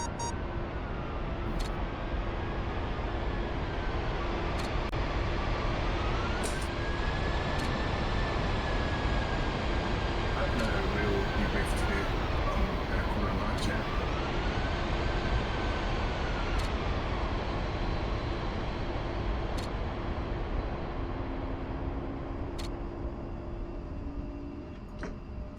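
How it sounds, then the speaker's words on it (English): An A-10C jet taxis in the DCS flight simulator with a steady, high turbine whine and a low rumble. The pitch rises and falls gently as it rolls, and sharp clicks cut in now and then. "Yeah, we're taxiing."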